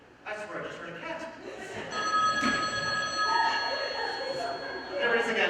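An old-style telephone bell rings steadily for a few seconds, partly covered by people speaking nearby.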